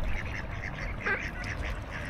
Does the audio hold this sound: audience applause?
no